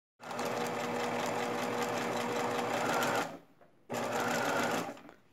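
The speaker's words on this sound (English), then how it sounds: "we're just going to stitch all the way up to the pin and just pull out the pin as you get to it" Sewing machine stitching pieces of a scalloped Dresden plate quilt, a steady fast whirring run of about three seconds, a short pause, then another burst, close and clear with no talking.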